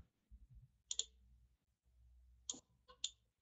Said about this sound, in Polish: klikam prawym przyciskiem myszy na licznik